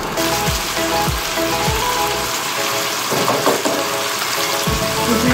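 Chicken frying in a hot pan for Singaporean rice, a dense steady sizzle with occasional soft thumps and clatters from the pan, close and loud throughout.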